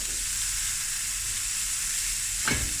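Cooked rice fries in burnt butter, giving a steady, even hiss of sizzling throughout, with a single brief scrape of a stir near the end.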